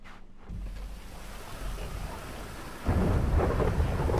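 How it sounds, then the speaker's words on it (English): Steady rain and a low thunder rumble in the video game Grand Theft Auto V, the downpour swelling louder partway through with no voices over it. "Oh, now it's raining because of my death."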